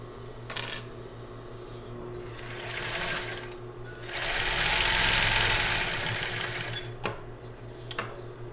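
A sewing machine stitching a bra strap on a child's bra runs in a steady rapid whir that speeds up into a dense burst midway, close and fairly quiet, with no talking.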